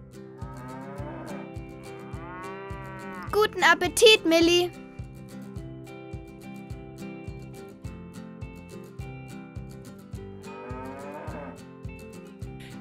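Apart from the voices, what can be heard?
cows mooing while being fed hay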